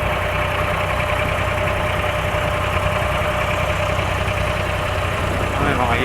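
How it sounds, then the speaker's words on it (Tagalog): A loud, steady engine drone with a constant rumbling hum running throughout, from an abra boat motor close by on Dubai Creek. "Medyo maingay itong makina ng"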